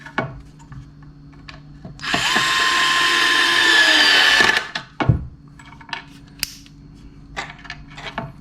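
A WORX WX242 cordless screwdriver on its fourth speed drives a 2.5 cm screw fully into a wooden board, a loud steady motor whine of about two and a half seconds followed by a thunk and small handling knocks.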